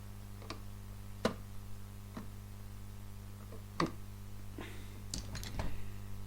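Pliers working the trimmer inside an opened Baofeng BF-888 handheld radio, a few sharp, faint metallic clicks and ticks spaced irregularly over a low steady hum.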